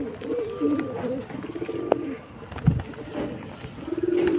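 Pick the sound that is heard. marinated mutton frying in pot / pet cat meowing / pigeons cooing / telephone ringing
pigeons cooing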